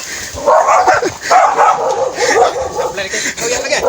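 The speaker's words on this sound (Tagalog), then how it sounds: "Galit na galit yung aso" An angry dog barks and yips repeatedly and loudly at close range, with agitated bursts continuing throughout while people talk over it outdoors.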